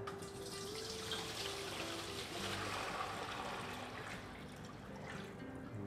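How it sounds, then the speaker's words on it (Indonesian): Shallots are washed in about five liters of salt water, a continuous close sloshing and trickling at a low level, with no talking. "kita cuci dulu pakai air garam"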